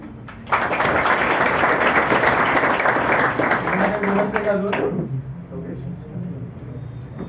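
Audience clapping loudly in congratulation at an MPSC success talk for a police sub-inspector, a dense burst lasting several seconds before fading out as a voice resumes.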